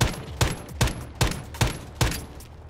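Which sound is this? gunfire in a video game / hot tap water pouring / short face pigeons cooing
gunfire in a video game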